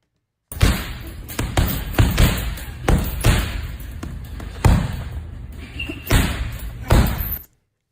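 Heavy boxing punches land as a series of irregular, weighty thuds in fight footage, each a loud dull impact spaced unevenly across the clip.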